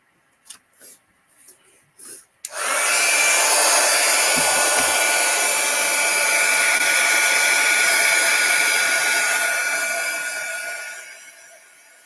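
A few short handling knocks lead into a hair dryer switching on and blowing loudly and steadily at close range to quickly dry a plain fabric bag, its whine holding for about nine seconds before tapering off.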